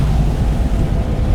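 Wind gusts roar steadily against the microphone during a rainy mountain drive near Shimla in a Maruti 800, a loud, close, continuous rush with no talking.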